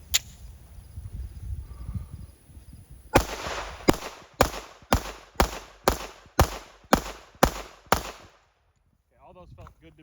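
Pistol shots firing Fiocchi 147 grain ammunition from a handgun at a range, nine sharp reports in quick, evenly spaced succession after a stretch of background noise, loud and close.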